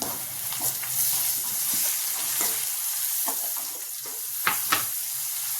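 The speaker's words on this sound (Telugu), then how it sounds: "ఉల్లిపాయలని ఫ్రై చేసుకుందాం" Onions sizzling in a pan for a bottle gourd curry, a steady bright frying hiss with a few sharp crackles and stirring scrapes, no voices.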